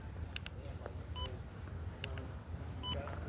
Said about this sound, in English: I have to keep pressing the beep button